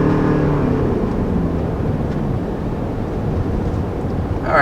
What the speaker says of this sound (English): when the engine kicks in, if you're really pushing hard on the gas, it does have quite a bit of noise that penetrates into the cabin